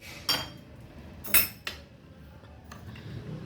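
A spoon tapping against a glass as a spoonful of salt goes in, two or three bright clinks close by over quiet room noise, without speech.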